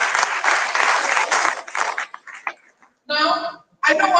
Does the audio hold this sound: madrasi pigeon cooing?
no